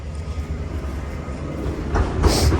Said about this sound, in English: That noise is the tractor behind me.